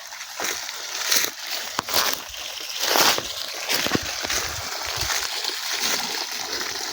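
Water from a 2-horsepower solar-powered pump pours and splashes into a barrel outdoors. It is close and continuous, with uneven sloshing bursts.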